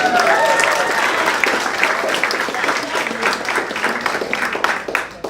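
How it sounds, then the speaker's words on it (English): A roomful of people at a memorial celebration applauds a granddaughter who just graduated, with sustained, dense clapping that fades slightly toward the end. "Let's give her a round of applause"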